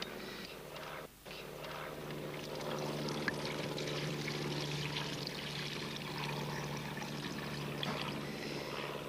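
Distilled water pours steadily into a basin set out to catch particles at a rocket launch site, a continuous close splashing trickle over a low steady hum, with a brief dropout near the start.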